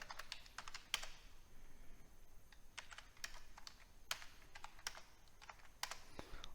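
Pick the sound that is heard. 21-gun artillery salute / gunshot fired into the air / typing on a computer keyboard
typing on a computer keyboard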